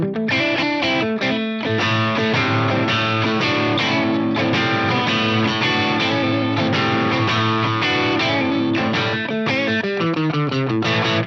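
Electric guitar played through a rack preamp with the gain turned up, giving a continuous, loud, driven and slightly distorted tone, with strummed chords and picked notes running throughout, no voices.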